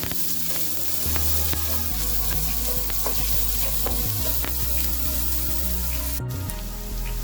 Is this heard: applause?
no